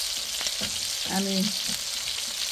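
Tandoori-marinated chicken pieces sizzle in a pan, a close, steady frying hiss with a brief tonal squeak as a piece is shifted, and no speech.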